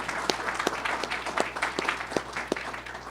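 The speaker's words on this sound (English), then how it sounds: "So how about a round of applause to those behind the scenes who work so hard to keep this tradition alive." Applause at a hall of fame ceremony, moderately faint, with distinct individual claps standing out from a light, steady patter of a smaller crowd under a low constant hum.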